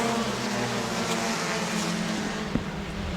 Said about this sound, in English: Top 4, make it top 5 cars all there together as they come off turn number 4.